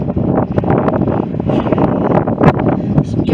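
Strong gusty wind at Sand Point on the coast buffets the microphone in loud, uneven rushes with no other clear sounds.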